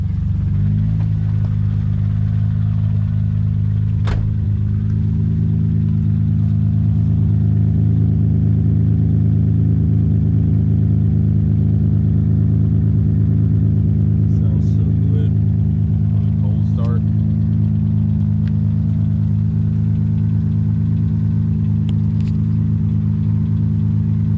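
A Hyundai car engine fires up after fuel pump priming and settles into a loud, steady idle with a deep humming drone, a short knock early on and faint clicks later.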